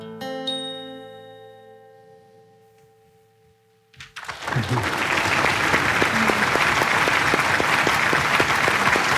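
Applause bursts out after a poetry duet performance at a Poet Idol competition show, preceded by a fading sustained musical tone and silence, then a loud, sustained clapping from the audience.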